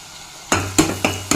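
Green chillies and curry leaves are stirred in a hot pan while cooking a brinjal side dish, with a soft sizzle broken by four distinct scraping knocks of the spoon against the pan, close up.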